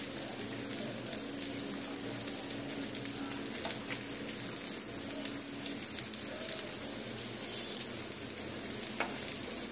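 Flattened rice (chire) pakoras fry in oil in a pan with a steady, close, crackling sizzle and scattered tiny pops throughout, with no voices.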